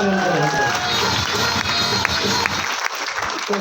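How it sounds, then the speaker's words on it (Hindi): Audience applause at an RCM business seminar in Indore, a dense, steady wash of many hands clapping close by, with crowd noise and a few voices under it, thinning out near the end. "एक बार जोरदार तालियां।"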